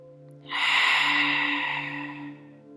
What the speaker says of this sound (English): Just 2 more deep breaths here.